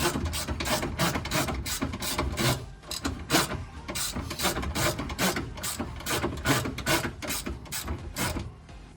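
Bolts being fastened on the rear control arms of a K24-swapped Honda Civic, a fast repeated ratchet clicking with scraping metal contact, loud and close, continuing in steady bursts throughout without speech.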